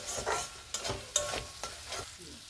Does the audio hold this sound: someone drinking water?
no